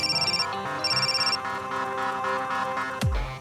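A phone ringtone sounds for an incoming call during a hospital scene, a repeating electronic melody in two bursts over background music, then a heavy thump near the end.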